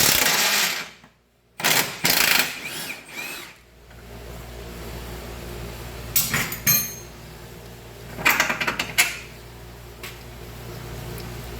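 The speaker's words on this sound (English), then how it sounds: "I'm just going to loosen the bolt that's at the bottom here." Wrench working the lower control arm bolt on a 2015 Jeep Patriot 2.4, with a few clustered metallic clicks and clanks near the start and two later bursts of ratcheting and rattling against quiet garage background.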